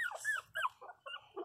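Several 23-day-old puppies cry loudly up close, a quick run of high, squeaky whimpers and whines in short bursts with brief gaps between them.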